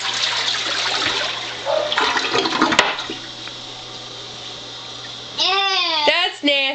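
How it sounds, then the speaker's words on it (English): A household toilet flushing, with a rush of water followed by trickling, while a child babbles and squeals nearby and an adult voice joins at times. "Why do you keep flushing the toilet?"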